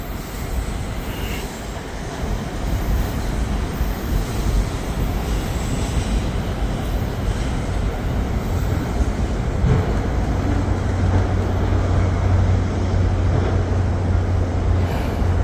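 CSX freight trains roll past near Vandalia, Ohio, amid ongoing construction. A steady, loud rumble of wheels and rail cars fills the whole stretch, and a low engine drone grows stronger toward the end.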